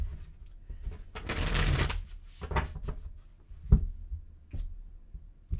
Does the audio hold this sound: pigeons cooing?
no